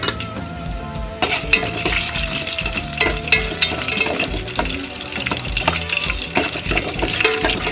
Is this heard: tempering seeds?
yes